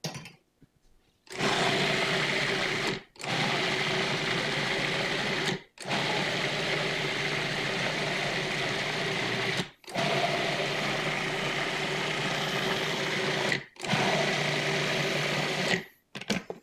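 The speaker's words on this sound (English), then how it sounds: "But I'm using the processor today." A food processor whirs through butternut squash soup in a kitchen, running in several steady bursts of a few seconds each, separated by short pauses, loud and close with no talk.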